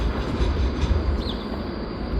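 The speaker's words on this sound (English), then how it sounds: "There's a tram" A tram crossing a bridge along a canal in Ghent rumbles past at moderate distance, low and steady, with a brief high metallic wheel squeal in the middle.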